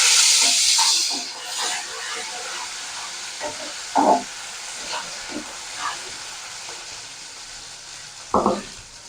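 Ginger paste hitting hot oil already tempered with whole cumin and asafoetida, a hissing sizzle that fades into a quieter crackle with occasional stirring clatters.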